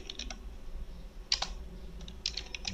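Keys clack on a computer keyboard in short irregular bursts of typing, close and fairly clear over a low background hum.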